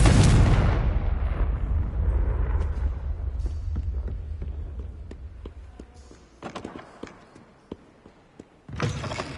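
Confringo fire spell detonating in Hogwarts Legacy, a loud booming blast at the start that rumbles and decays over several seconds, followed by scattered faint clicks and a few smaller thumps and bursts near the end.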